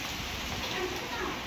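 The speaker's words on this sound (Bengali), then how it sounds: "হুট করে তুমুল বৃষ্টি শুরু হয়েছে।" Sudden heavy rain pours down in a steady, dense hiss that fills the whole stretch evenly, loud and close with no breaks.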